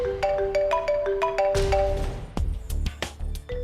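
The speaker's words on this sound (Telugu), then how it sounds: "ఫోన్ ఎవరిదో? ఏదైనా ఇంపార్టెంట్ ఫోన్ అయి ఉండొచ్చు." A phone rings with a repeating melodic ringtone of bright, stepped electronic tones in a domestic drama scene, then gives way to louder clattering and background music-like noise in the second half.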